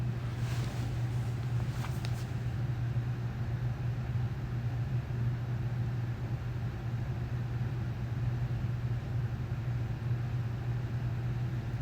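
A Mahindra Roxor driving on icy winter roads, a steady low engine drone with constant road and wind noise, unbroken for the whole stretch, no voices.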